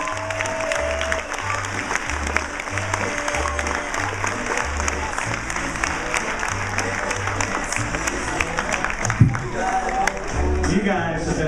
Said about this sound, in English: as this round of applause gives you a big boost of energy